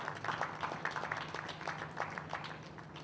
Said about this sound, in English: A round of applause for Software for Assessment of Disabled.